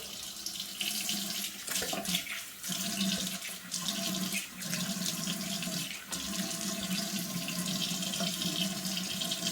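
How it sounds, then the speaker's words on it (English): Tap water runs steadily into a bathroom sink while a face is rinsed, a continuous close splashing rush broken by a few brief dips as hands move through the stream. "Rinse my face off."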